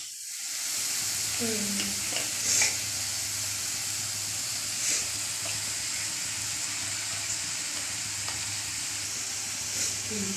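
Ginger garlic paste sautéing with softened ingredients for a poori masala, a continuous close sizzle and hiss with occasional louder spatters and stirring scrapes throughout.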